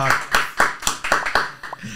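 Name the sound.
studio applause for guest Marco Polo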